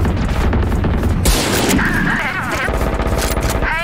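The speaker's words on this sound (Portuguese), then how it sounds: "Eu errei todos os tiros." Rapid gunfire from the tactical shooter game Valorant, loud bursts of automatic shots and sharp single cracks packed close together, with game effects and some voice mixed underneath.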